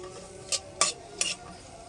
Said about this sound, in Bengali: পেঁয়াজটা একটু লালচে করে ভেজে নেব।